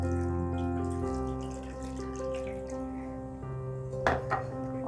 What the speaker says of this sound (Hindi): इस तरह 2-3 पानी से आप इसको वॉश कर ले।